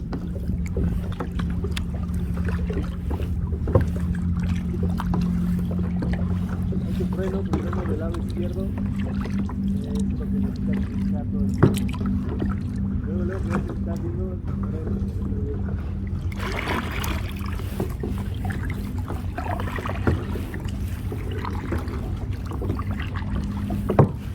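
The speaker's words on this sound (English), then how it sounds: "We were just 4 kayaks enjoying the quietness of the mangrove-filled channels." Four kayaks paddle through quiet mangrove channels near Cancun, with soft paddle splashes and boat noise under steady wind rumble and occasional voices.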